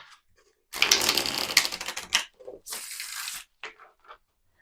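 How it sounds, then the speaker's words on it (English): Tarot cards riffled and shuffled in two quick bursts, close and crisp, followed by a few soft taps as the deck is squared. "Hold please while I shuffle."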